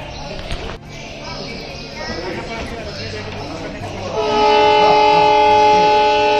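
A train at a railway station, a loud steady rumble with tonal horn or engine drone swelling near the end, while people talk over it.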